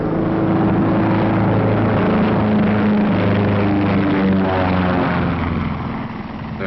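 Several B-17 Flying Fortress bombers take off and fly away, making a loud, steady, droning roar of propeller engines with throbbing low tones that fill the whole stretch; old 1940s film sound, with no voices.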